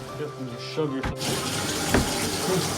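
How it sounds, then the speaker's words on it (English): Cleaned fish rinsed under running water at a campsite, a steady close splash and gush of flowing water with a brief clunk and faint voices behind. "You rinse your fish in this here."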